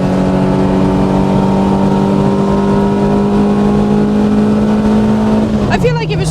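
A VTEC-swapped Honda Civic accelerating hard on the Nurburgring, a loud, steady in-cabin engine drone climbing in pitch, then a sudden drop and shift near the end.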